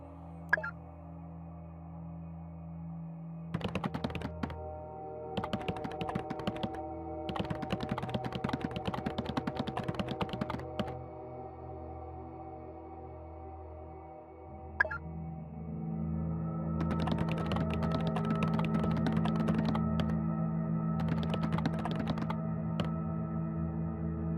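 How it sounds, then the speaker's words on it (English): Rapid computer keyboard typing in the video game The Occupation, clattering bursts of keystrokes in several runs over a steady low electronic hum and tonal background drone. "This guy's a fast typer."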